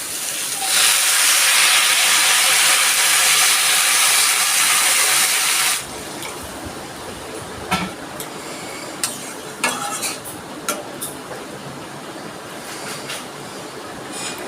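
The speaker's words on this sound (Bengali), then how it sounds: "জলটা ফুটে উঠেছে" Water with potatoes and jackfruit seeds heats in a cooking pot, first a loud rushing hiss for several seconds, then quieter bubbling and scattered clicks close by, with no talking.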